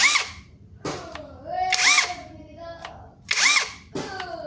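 A D.WE Mungil compact cordless impact wrench runs in repeated short bursts, each rapid hammering whir rising and cutting off, separated by brief pauses with clicks, close and loud.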